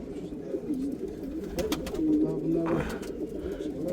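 Zabıta Mehmet pigeons coo nearby in soft, repeated rolling calls over a low hum, with someone talking at moderate volume and some light shuffling.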